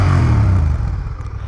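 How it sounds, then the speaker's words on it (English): A Honda Rebel 1100 motorcycle with a 1084cc parallel twin engine, loud and close, rumbling low right after start-up and settling into an idle. "let's start the bike up, shall we?"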